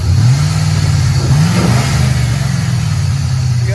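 A GMC Sierra with a 6.0L V8, shorty headers, a cold air intake and straight pipes revs loudly up close. Its deep, rumbling exhaust climbs and settles a couple of times without any talk.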